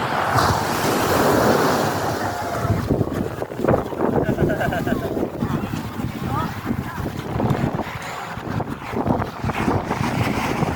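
Rushing surf breaks steadily near the shore, wind buffeting the microphone, while people talk over it.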